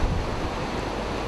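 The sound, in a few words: large waves crashing on shore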